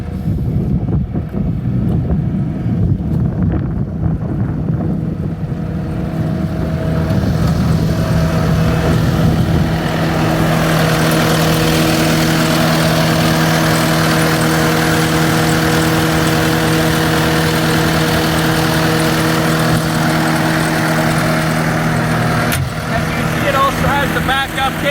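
A 2017 Cat 299D2 XHP high-flow compact track loader with a closed cab and a 3.8 turbo diesel engine runs at a steady idle outdoors, a constant close droning hum with wind buffeting the microphone.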